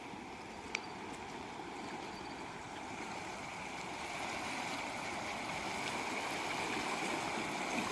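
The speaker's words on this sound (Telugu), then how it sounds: "వాటర్ ప్రవాహం అనేది ఎక్కువ వస్తుంది" A steady, broad rush of the flood-swollen Papagni River during Cyclone Montha, constant and moderately loud, swelling slightly toward the end, with no voices.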